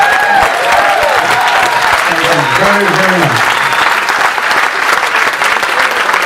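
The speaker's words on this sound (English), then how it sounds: "Come on, keep the applause going." Sustained audience applause fills the hall at the close of a cancer-themed speakers' evening, loud and dense throughout, with someone speaking briefly over it.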